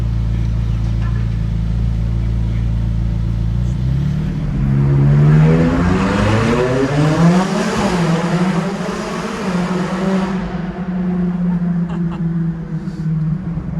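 A McLaren supercar accelerates hard across Monaco's Place du Casino, its engine rising steadily in pitch through a loud, close, rasping run before easing off, with a constant background rumble throughout.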